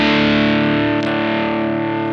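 Distorted electric guitar on the bridge pickup with no effects, one thick sustained chord ringing loudly and evenly for a couple of seconds, alone with no voices.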